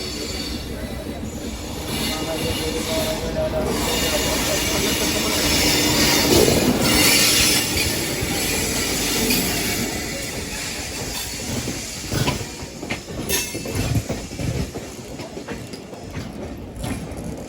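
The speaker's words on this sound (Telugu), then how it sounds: "అటు సైడ్ నుంచి ఒక బండి వస్తుంది, చూద్దాం." The Howrah–Kanyakumari express passes close by, a loud sustained rumble of wheels and carriages with rhythmic clatter and high squealing that swells and then eases, with a voice talking faintly over it.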